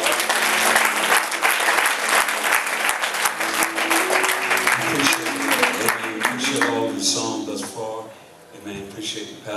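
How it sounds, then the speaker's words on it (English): Applause in a church service fills the space with steady broad clapping, joined by music and voices that carry on beneath it and fade toward the end. "Let's give the Lord a round of applause."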